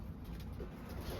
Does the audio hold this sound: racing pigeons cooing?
yes